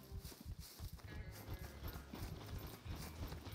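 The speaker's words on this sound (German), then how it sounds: "Das scheint da ein Pferd zu sein." Horse hooves clip-clop in a video game, a quiet, irregular run of hoofbeats with faint clicking mechanical sounds in the background.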